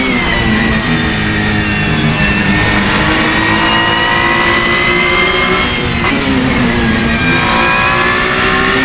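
A Ferrari 499P LMH Le Mans race car in Assetto Corsa holds loud, steady engine revs with rising and falling pitch through gear changes, close and continuous with no talk.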